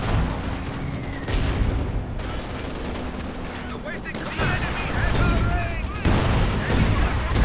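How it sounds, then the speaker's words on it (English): Battle din in Company of Heroes 2 as a half-track's .50 caliber machine gun fires amid other gunfire and explosions, dense overlapping bursts with a voice talking over them. "Half-track lending its 50 caliber machine gun."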